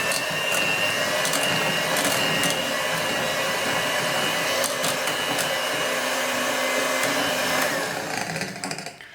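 An electric beater whirs steadily, beating salted butter for cookies, a loud continuous motor whine with occasional ticks of the beaters against the bowl, close up and fading slightly at the end.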